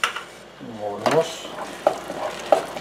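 A spoon stirs quinoa pudding with condensed milk in a pot, giving soft scraping and a few sharp clinks against the metal, close and moderately loud with no talking.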